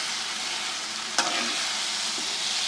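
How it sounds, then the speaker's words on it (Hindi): Okra (bhindi) in masala gives a steady soft frying hiss, with a single sharp clack of a spoon partway through, close by. "और बहुत एहतियात से हम भिंडी को जो है वो मिक्स कर देंगे, अच्छे से मिक्स करेंगे।"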